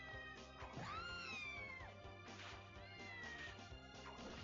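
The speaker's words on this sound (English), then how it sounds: "Is that a cat?" A cat in a Castlevania video game meows several times, drawn-out rising and falling cries over a steady game music background, with no talking.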